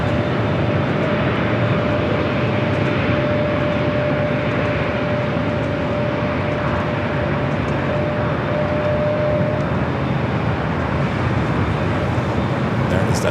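A JetBlue jet airliner taking off from runway 24 left at LAX and making an early bank turn to the left, a steady, loud broadband jet roar with a faint sustained whine, heard alone.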